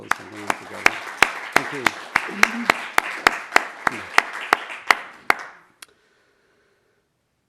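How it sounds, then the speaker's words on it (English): Applause at an evening event honoring Unitarian Universalist history, heard as sharp, evenly spaced claps close by with a voice speaking underneath. The clapping stops abruptly, leaving near silence. "let's give all of those people a round of applause"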